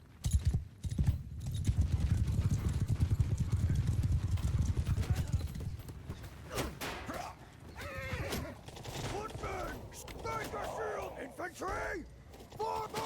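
Horse hooves clip-clop in a steady loud rhythm over a rumbling battle din in the video game Mount and Blade 2: Bannerlord, with horses neighing and shouted commands rising later.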